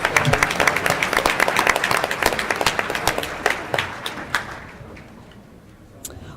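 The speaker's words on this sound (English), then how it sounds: "let's give them a round of applause" Delegates at a church annual conference give a round of applause: dense, lively clapping up close that thins into a few scattered claps and dies out into near silence after about five seconds.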